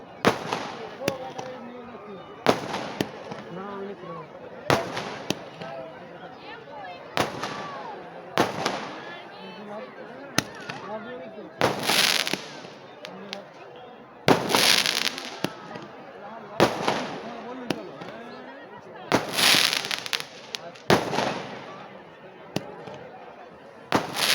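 Fireworks and firecrackers burst at night in a competitive display, a string of loud, sharp bangs and crackling explosions repeating every few seconds, with voices talking in between.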